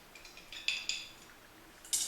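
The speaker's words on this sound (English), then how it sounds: "stir that up with my magic swizzle stick" A swizzle stick stirring rum in a glass for a Flor de Caña cocktail, a few light clinking taps and scrapes against the glass, close and quiet, with a brighter clink at the end.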